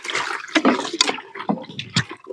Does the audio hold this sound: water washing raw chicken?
yes